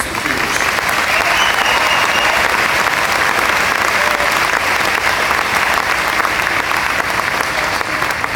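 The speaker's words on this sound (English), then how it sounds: "Let's offer a warm welcome to Matthew and Caroline as they address thei" A large audience at a Dominion High School ceremony bursts into loud, sustained applause, a thick wall of clapping that holds at an even level for over eight seconds.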